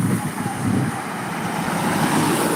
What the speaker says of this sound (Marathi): आता इकडून गाड्या येत आहेत मित्रांनो मस्तपैकी हायवेला आहे मी